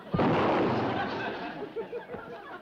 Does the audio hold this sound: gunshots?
yes